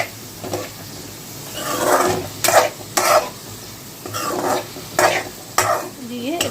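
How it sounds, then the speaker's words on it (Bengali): Food is stirred in a sizzling frying pan for a vegetarian dish, with a spatula scraping in repeated strokes over a steady background of frying. "দিয়ে এবার ভালো করে একটু নেড়ে চেড়ে নেব"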